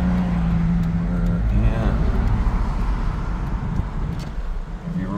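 Cars pass on a road in Blacksburg, a steady low rumble of traffic heard from inside a moving vehicle, with a faint murmur of voices underneath.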